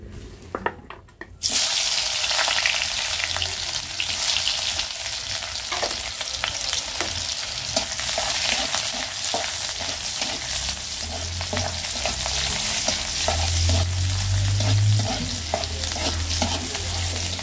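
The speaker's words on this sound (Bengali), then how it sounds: "শাকটাতে এখন শুধু তেল দেওয়ার জন্য কড়াইতে তেল দিয়ে দিছি।" Boiled greens frying in oil in a wok, loud continuous sizzle after a brief quiet start, with regular scraping strokes of a spatula throughout.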